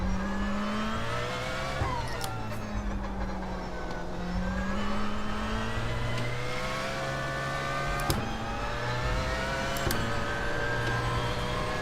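Porsche 919 LMP1 prototype racer in iRacing, engine held at full throttle with steady rising and falling revs through gear changes, loud and continuous with no talk.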